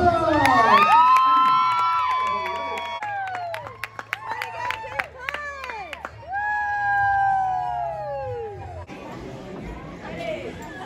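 Crowd cheering and shouting for the winning cheerleading team at a Cheer Derby competition, a loud sustained roar with children's shrieks and scattered clapping, with an announcer's voice over the noise.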